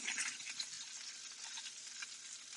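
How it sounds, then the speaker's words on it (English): Butter melting and sizzling in a hot pan, a faint, steady crackle that runs without pause and with no voices over it. "The butter is melting in there nicely"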